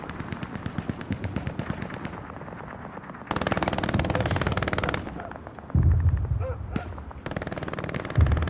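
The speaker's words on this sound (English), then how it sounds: "War Crimes MG on the hard cap there, pinning down the squad in the mid" Machine gun fire in the World War II shooter Hell Let Loose, close, loud rapid bursts broken by brief pauses, with more distant gunfire between them.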